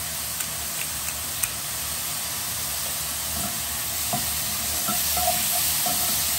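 Smoked haddock and leeks, seasoned with black pepper, cook gently in a pan with a steady, loud sizzle and hiss, broken by a few soft stirring clicks and scrapes.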